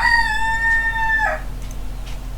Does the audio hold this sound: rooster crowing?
yes